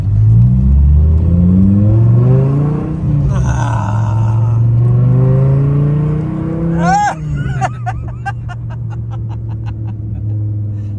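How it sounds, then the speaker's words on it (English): A Dodge Viper's 8-liter V10 revs hard and close, its pitch sweeping up and down through several throttle blips, then settles into a deep rumbling idle punctuated by rapid popping bursts. "8-liter V10 engine."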